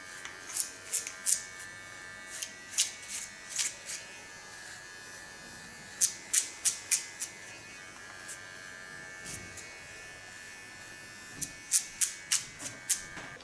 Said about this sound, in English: clean the contour with a small clipper